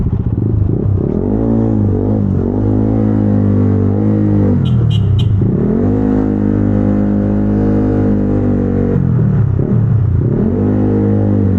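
A Yamaha Aerox V2 scooter engine, bored to 215cc, revs hard and loud, rising and falling in several throaty bursts before settling back between throttle blips.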